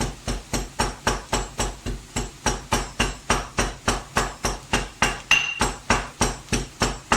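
Fresh garam masala spices are pounded in a mortar with steady, evenly spaced thuds, about three strikes a second. The hard, ringing knocks repeat without pause from start to finish.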